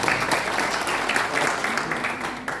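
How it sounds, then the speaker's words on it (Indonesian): A church congregation claps together in a dense, steady burst of applause that fills the room for a couple of seconds without letting up. "tepuk tangan buat Tuhan"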